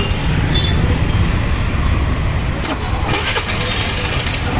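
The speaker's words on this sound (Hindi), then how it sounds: "गाड़ी आपको स्टार्ट करके दिखाता हूँ। सिंगल सेल्फ में चालू होगी और गाड़ी बंद भी नहीं पड़ेगी।" A Suzuki Access BS6 scooter with a low idle rpm problem starts on a single press of the self-starter and settles into a steady, loud, close idle.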